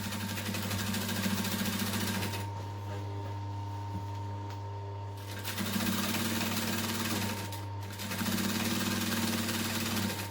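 A sewing machine back stitching along a leather duffel edge runs in bursts, a steady mechanical whir with a short pause midway and a brief stop near the end.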